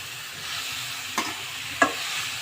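Vegetable filling for spring rolls lightly frying in a pan, a soft continuous sizzle with two distinct spoon scrapes or taps, close and steady, no voices.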